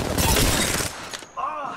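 A quick burst of rapid gunfire from an Apex Legends match rattles out loud and close, then cuts off abruptly into quieter game sounds.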